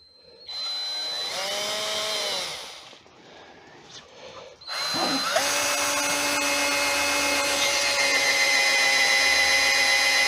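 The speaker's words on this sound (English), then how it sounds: "you drill a pilot hole with a normal bit of the" A power drill with a standard bit bores a pilot hole into wood for a cross-grain lamp turning project, whining steadily up close in two bursts separated by a short pause, with the second run longer and sustained.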